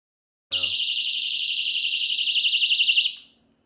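After a brief click, a personal safety device's piercing high-pitched electronic alarm wails continuously for about two and a half seconds, warbling slightly, then cuts off abruptly.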